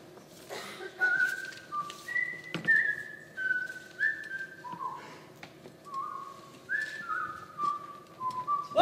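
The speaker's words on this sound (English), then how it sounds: "You were whistling the old Ivy fight song" A person whistles the old Ivy fight song during a school stage musical, a clear close melody of short rising and falling phrases with pauses between them, no talk.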